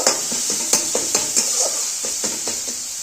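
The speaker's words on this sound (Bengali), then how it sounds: "একটু এর সঙ্গে ভাজা ভাজা করে নেব।" Pointed gourd seeds fry with spices in a pan, giving a steady sizzle broken by regular clicks and scrapes of a spatula stirring, with no talk.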